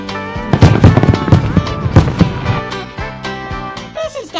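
Fireworks display with a dense flurry of crackling bursts and pops, loud and near at first, then thinning out with a whistling tail at the end.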